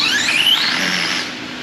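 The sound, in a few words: drag car launching down the track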